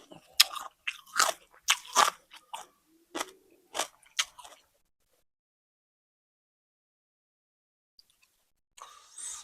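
Close, crisp crunching bites and chewing of fresh raw vegetables eaten with spicy Thai sok lek, a quick cluster of sharp crunches followed by silence and a faint final rustle.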